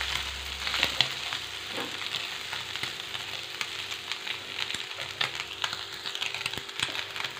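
Five or six garlic cloves fry in oil in a pan while being stirred, giving a continuous close sizzle with occasional scraping stir sounds.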